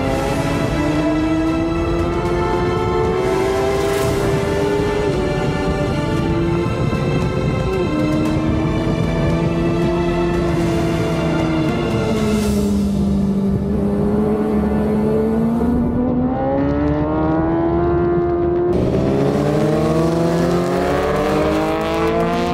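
A motorcycle accelerates hard around a race track, its engine a loud, continuous whine that climbs through gears with brief dips at each shift, rising and falling in pitch for the whole stretch.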